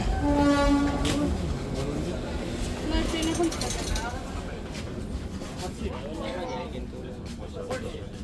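The Paharia Express passenger train standing at a station, with a loud horn blast at the start and then a steady rumble and clatter under a continuous hum of voices on the platform.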